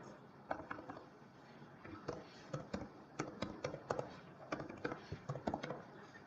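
Fingers typing C code on a computer keyboard, with rapid, uneven clusters of close key clicks and taps that pause briefly between bursts.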